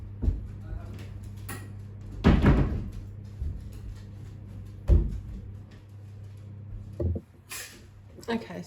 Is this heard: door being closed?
yes